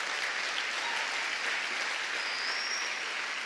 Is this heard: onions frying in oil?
no